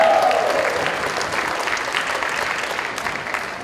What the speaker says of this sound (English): I think the applause was about even.